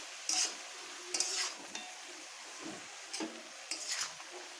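Salt being stirred into a wax gourd and small fish curry in a pan, with a few spaced scraping strokes over a soft, quiet sizzle, close and with no voices.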